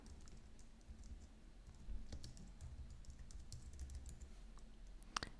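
Soft, quick clicks from typing a command on a computer keyboard, irregular keystrokes heard close but faint over a quiet room hum, ending with a sharper key press.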